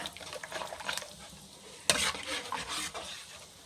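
Sweet and sour fish sauce is stirred in a sizzling pan. Soft scraping strokes run over a steady frying hiss, and one louder clack of the utensil against the pan stands out. The sound is close and fairly quiet, with no voices.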